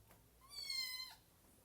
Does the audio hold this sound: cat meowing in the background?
yes